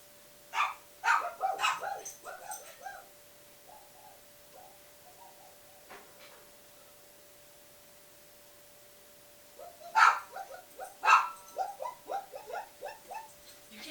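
A dog barks in two bursts of rapid yips, the first cluster early and another about ten seconds later, moderately near, with a steady tone humming underneath and quiet gaps between.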